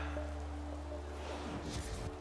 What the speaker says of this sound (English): and the raindrops starting to fall